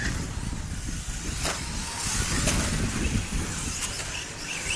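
Small 4x4 short course RC trucks race around a dirt track during an A-main, their high-pitched electric whine rising and fading in a continuous blur of passing motors with broadband track noise, no voices.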